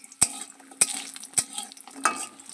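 Lentil dumplings (bori) frying in oil in a pan alongside drumstick leaves, close crackling sizzle punctuated by four sharp spatula knocks against the pan at regular intervals.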